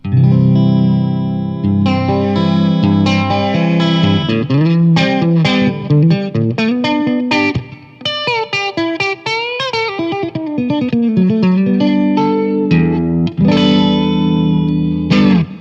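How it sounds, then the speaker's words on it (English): Electric guitar through a Strymon Deco pedal with a strong warbling, swirling modulation between flanger and vibrato that bends pitch up and down, played loud and up close with a few pauses. "somewhere between a flanger and a vibrato sound"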